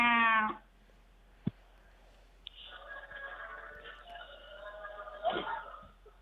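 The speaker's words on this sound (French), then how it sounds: "Bah, il est mal en point, ce chat." A cat in poor condition meows a single hoarse, strained cry up close, followed after a sharp click by a longer, rough, wavering wail that ends in a brief raspy burst.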